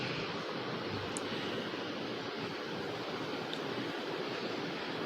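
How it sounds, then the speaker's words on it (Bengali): A pot of water with cardamom peels and green food colouring churns at a rolling boil for raw mango sponge rosogolla syrup, giving a steady, dense bubbling rush that holds at an even level throughout. "দেখো জলটা ফুটে এসেছে।"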